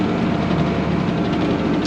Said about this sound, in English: The mower's running really good.